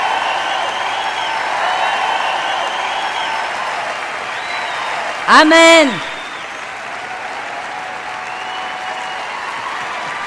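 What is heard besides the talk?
audience applause in a church sermon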